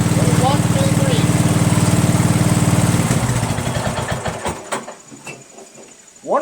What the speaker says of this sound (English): 1 or 2 seconds passed before the engine actually shut off